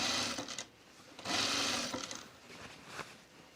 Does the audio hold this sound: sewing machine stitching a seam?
yes